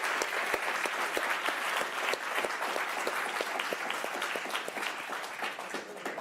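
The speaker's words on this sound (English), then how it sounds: "One big round of applause for our guests." Audience applause for departing guests at the close of an evening event, a steady dense wash of many hands clapping for about six seconds, sustained and even without tapering.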